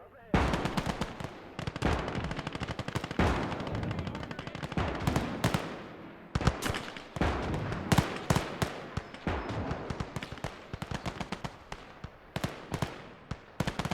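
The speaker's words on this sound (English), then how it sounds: "The machine gun noises are fantastic. Really like the sound of them." Machine guns rattle in the WWII strategy game Gates of Hell, dense bursts of rapid gunfire crackling loudly in repeated volleys with short gaps between them.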